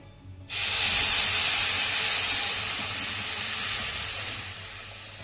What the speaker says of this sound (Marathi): आता यामध्ये आपल्याला गरम पाणी घालायचं आहे.